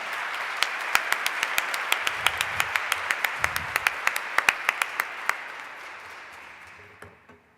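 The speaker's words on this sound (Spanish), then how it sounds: "Un aplauso entonces para María Pía Silva" Audience at a seminar on women lawyers in Chile applauding a newly introduced speaker, a room full of steady clapping with a few sharp individual claps standing out, fading away toward the end.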